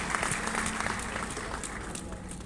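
Audience applause welcoming a singer at Punjabi University Patiala, a steady, dense clapping from a large crowd that holds evenly for the whole stretch with no speech over it.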